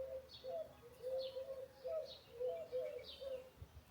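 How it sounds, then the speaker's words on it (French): Small birds chirp and call in spring outdoors, a repeating series of short bright twitters over a softer cooing bird, fairly close and steady, with no talking. "Écoutez là, ces petits oiseaux."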